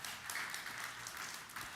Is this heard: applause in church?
yes